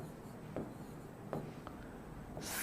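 Chalk or marker strokes on a board, a few short scratchy marks spaced apart while a chemical reaction is being written, faint over a steady room hum with no speech.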